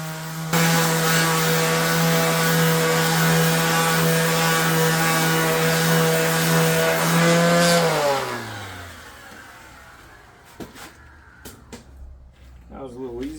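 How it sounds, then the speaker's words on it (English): A power sander runs steadily against a wooden charcuterie board with a loud, even whine for about eight seconds, then spins down, followed by a few light knocks and rustles. "time to sand this flat and clean it up"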